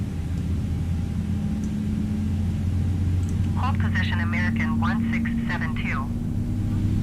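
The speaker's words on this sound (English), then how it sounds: "Beautiful sound of the IAE V2500 engines kicking off." Simulated IAE V2500 engines on an Airbus A319 in Microsoft Flight Simulator 2020 spooling up, a steady low rumble with a slowly rising whine, heard under a brief radio voice from air traffic control.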